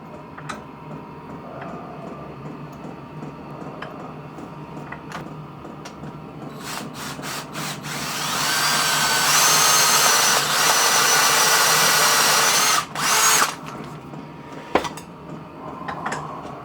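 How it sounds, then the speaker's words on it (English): A reamer is worked through a hole in a vintage tractor throttle link, giving a sustained grinding whir for several seconds amid clicks, taps and light metallic handling noises. "And once again we need to put the reamer down through here."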